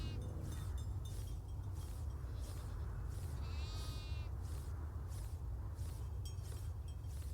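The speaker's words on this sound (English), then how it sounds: "these are new goats compared to the ones that we had on Farm Together" Farm goats in the video game Farm Together 2 bleat repeatedly at a moderate distance, a string of short nasal cries over a steady low background rumble.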